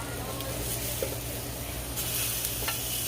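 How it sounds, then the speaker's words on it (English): Turkey burgers sizzling steadily in a pan, a constant close frying hiss with a low hum beneath and faint scraping as the patties are flipped. "they've been cooking on that side for a while. We're gonna flip them."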